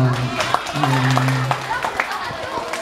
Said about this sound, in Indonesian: Oke, tepuk tangannya dulu dong.